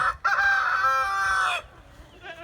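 A rooster near a backyard chicken coop crows once, loud and close, in one long drawn-out call, then quieter clucking from the hens follows.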